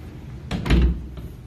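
Apartment utility closet doors for the hot water heater and central air being opened or shut, giving a short clatter, a solid thump, and a softer knock just after, close and with no talk.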